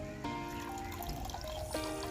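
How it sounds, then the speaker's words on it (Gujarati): Water trickles and pours steadily into a pot on the gas stove for tea, close and continuous, the flow pitch shifting as it fills. "પાણી નાખી દીધું"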